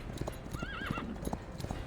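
A horse in a video game charges at full speed, hoofbeats clip-clopping rapidly as a loud, wavering neigh rises over them, with faint game sounds behind.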